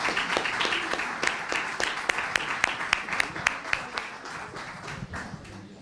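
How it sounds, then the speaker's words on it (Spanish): Applause from an audience at a Catalunya Suma event in Catalonia, a steady patter of many hands with sharper individual claps standing out, fading slightly toward the end. "un aplauso para él"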